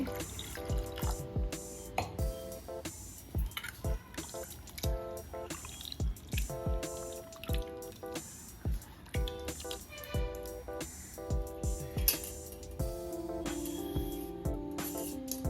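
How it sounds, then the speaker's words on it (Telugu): Tomato rasam being strained through a strainer, with irregular drips and splashes of liquid at close range. Music plays underneath throughout. "ఇప్పుడు దీన్ని స్టైనర్తో వడగట్టేసుకోవాలి."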